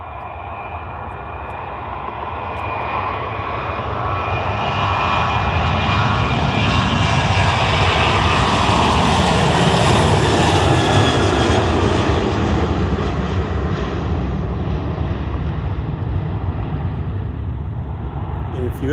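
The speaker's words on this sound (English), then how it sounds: "Here's the Alaska Airlines 737-890." An Alaska Airlines Boeing 737-890 jet taxiing at Ted Stevens airport in Anchorage, a loud, steady engine roar that swells to a peak midway and then eases slightly, heard close and continuous.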